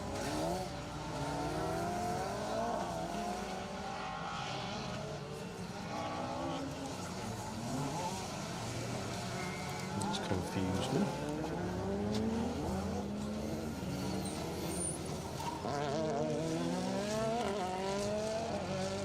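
Rally cars racing on a circuit stage, engines droning steadily with rising and falling revs, exhaust pops and bangs and brief tire squeal, heard continuously under a commentator talking.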